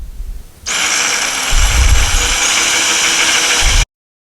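A power drill whirs steadily at close range, driving pilot holes into wall tile for a shower door installation. It starts abruptly, runs for about three seconds with a slight rise in pitch and load, then cuts off sharply.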